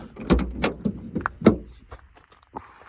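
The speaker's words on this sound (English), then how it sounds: "I'll just pop this back door open." The rear door of a cheap van converted into a microcamper is popped open: a few close clunks and latch rattles spread through the clip, with a brief rattly thud near the middle and a faint high whine at the end.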